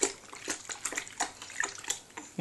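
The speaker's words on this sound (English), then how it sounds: "Splash! See you splash." A baby splashes water in a tummy tub, giving a run of small, close splashes and drips at an uneven rhythm, with no talk over them.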